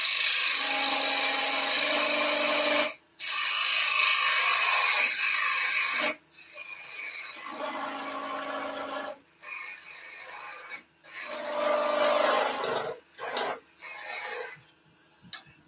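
Woodturning lathe tool cutting into spinning wood to shape a small foot, a harsh steady rasping scrape in several long passes separated by brief pauses, close and loud with no talk.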